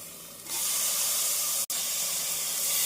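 Onions and tomatoes sauté in a pan for tomato biryani, producing a loud, steady hiss that rises sharply and holds, broken only by one momentary cut.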